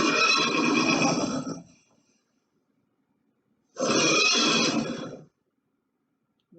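Two loud, drawn-out horse whinnies, close, each lasting over a second and separated by silence.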